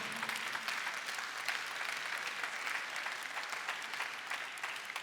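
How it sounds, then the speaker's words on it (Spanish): A church congregation claps during a worship service, steady and sustained applause heard at a low, somewhat distant level, even throughout with no voices standing out. "Denle un aplauso fuerte al Señor."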